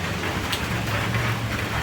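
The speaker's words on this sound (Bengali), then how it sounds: "এখন দেখো বৃষ্টি পড়ে যাচ্ছে" Steady, dense rain falls in a loud, even hiss with no breaks over a short stretch, and no voices are heard.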